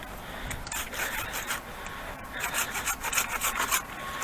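A Felco 630 pruning saw cuts through wood in quick back-and-forth strokes, a loud, close, rhythmic rasp that keeps going throughout.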